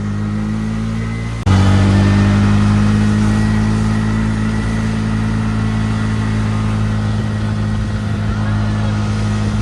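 An engine drones loudly and steadily, then jumps in level after a gear change and keeps pulling hard, close and continuous, with faint voices beneath it.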